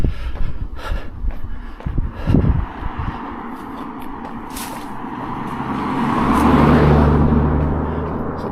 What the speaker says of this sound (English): Quite a few cars